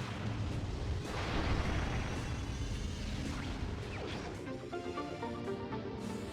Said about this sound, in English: we're going to power bomb this wall